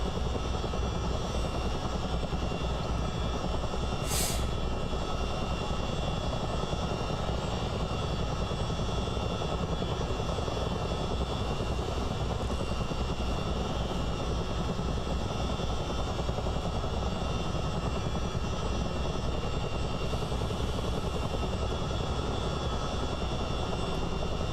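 A Chinook CH-47 twin-rotor helicopter in Microsoft Flight Simulator drones on steadily, its engine and rotor noise filling the whole stretch at a constant level, with one brief click partway through and no talking.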